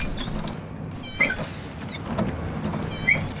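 A door or window squeaks twice as it is opened and closed, each time with a short, high squeal over a low, steady background rumble.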